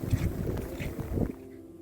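A hybrid electric ship glides with engines off through Trollfjord in Norway, leaving only a low, soft rush of water and wind buffeting the microphone, steady and fairly quiet, with no voices.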